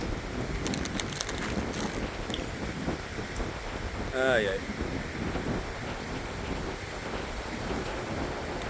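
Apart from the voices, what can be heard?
wind blowing outdoors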